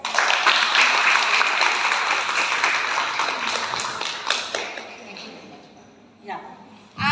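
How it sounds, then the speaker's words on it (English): Audience applause fills a hospital health session on the menstrual cycle, dense clapping that stays loud for about five seconds before thinning and fading out, with a few scattered claps near the end. "I would like everyone to give a big applause of it"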